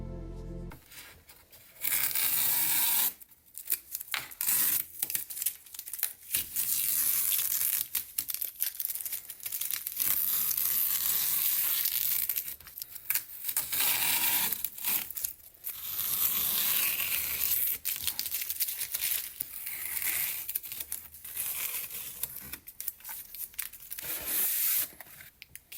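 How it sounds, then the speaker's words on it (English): Painter's tape peeled off a finished painting, a long run of close, loud ripping and crinkling strips with short pauses between pulls, no talking. "I'm gonna pull some of the tape off here and show it"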